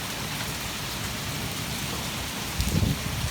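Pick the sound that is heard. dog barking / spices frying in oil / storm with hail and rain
storm with hail and rain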